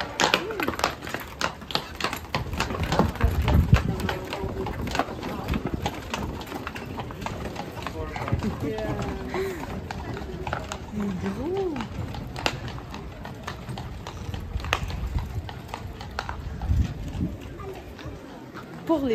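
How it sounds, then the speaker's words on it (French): Hooves of a horse clip-clop in an irregular tapping pattern at a fortress in Warsaw, moderately close and fairly steady throughout, with people talking in the background at times. "Ah, un cheval! Donc, voilà le cheval."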